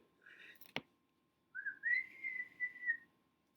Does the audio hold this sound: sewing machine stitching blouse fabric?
no